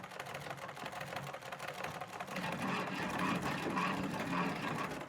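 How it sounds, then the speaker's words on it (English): Sewing machines whir and rattle steadily in a rural Croatian workshop, a close, busy mechanical hum with rapid stitching clatter that grows slightly louder midway and keeps going throughout. "When the sewing machines spring back into life, it's a good sign."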